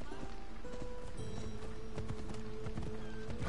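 Rhythmic hoofbeats of a galloping horse in Assassin's Creed Odyssey, steady and close, with a brief whinny and a voice talking over the game sounds.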